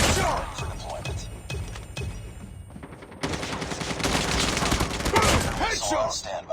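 Rapid video game gunfire fills a mobile shooter match on a realme 7 5G phone, dense and loud volleys of shots and impacts with a voice announcer speaking over them.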